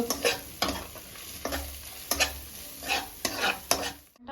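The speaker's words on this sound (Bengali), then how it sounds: "এবারে নেড়ে নেব" Ground spices, including coriander and Kashmiri red chili powder, fry over low gas in a pan for mushroom masala as a spoon stirs, giving a soft sizzle broken by six or seven sharp, regular scraping strokes.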